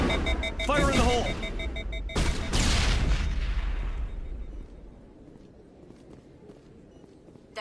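A grenade blast in the video game Mass Effect bursts loud and close, a broad roar rolling out and fading over several seconds, with shouted voices and game sounds just before it.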